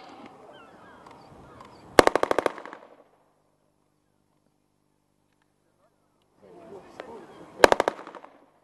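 Weapons fire during a military demonstration at Dover Castle: two loud bursts of rapid shots, several seconds apart, each preceded by murmuring voices, with quiet between them.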